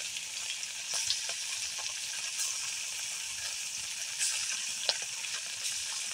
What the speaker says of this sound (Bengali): মাছটা ভেজে ফেলবো।